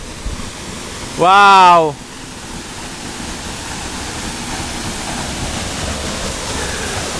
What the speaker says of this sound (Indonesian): Itu dia tadi air terjun Tanjung Asap yang berada di Desa Palaka ya.